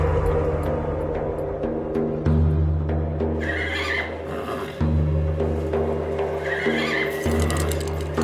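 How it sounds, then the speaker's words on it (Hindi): A horse whinnies several times, with shrill drawn-out neighs standing out over a steady low background hum at close range. "एक काम करो चरणदास, इसका सैडल वगैरह सब उतार के इसे बाहर ले आओ खुली हवा म"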